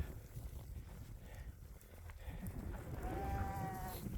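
A sheep on a homestead bleats faintly near the end over rustling outdoor noise, a short wavering cry against a quiet, scuffling background.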